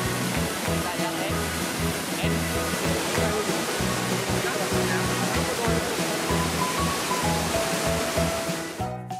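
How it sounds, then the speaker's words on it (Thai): Pha Dok Siao waterfall in a mid-elevation montane forest, a steady, dense rush of falling water partly mixed with a voice and tonal background sound. "มีน้ำตกผาดอกเซี่ยวที่มีความสวยงาม"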